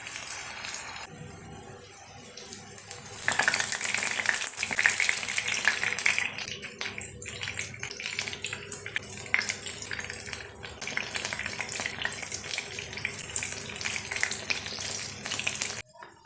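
Prawn vadas fry a few at a time in half a cup of coconut oil in a pan: a continuous close sizzle and bubbling, with occasional clinks of a utensil against the pan.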